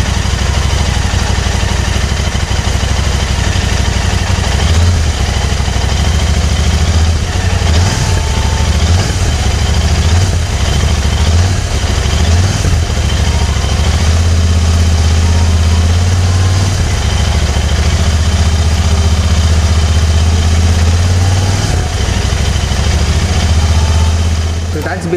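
Motorcycle engine idling in lockdown maintenance, a steady low rumble running throughout with a few light blips and slight rises in pitch, loud and close, with no other sounds over it.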